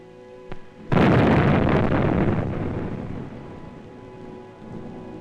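Sappers blasting a road through mountains in Korea: a single heavy explosion bursts in suddenly, then a long rumbling roar that slowly fades, loud and near, with no voices.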